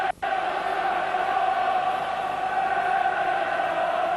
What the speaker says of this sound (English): You can probably hear the Aberdonians in the background.